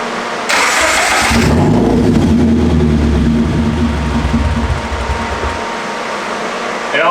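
A car engine cranks and catches, then runs with a steady rumbling idle close by, dropping slightly in level toward the end.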